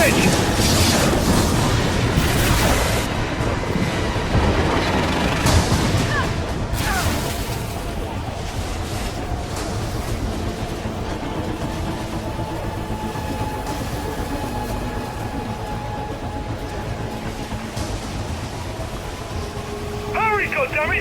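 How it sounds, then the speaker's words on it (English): A train rumbles past in the Gears 5 video game, a loud sustained roar and rattle of rail cars under a dense mix of game effects and shouted dialogue. "The train's gonna beat us to the bridge!"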